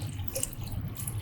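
Mineral water pours in a brief, steady trickle into the open top of a UV control box on an ink-tank printer, a close continuous splashing flow without speech.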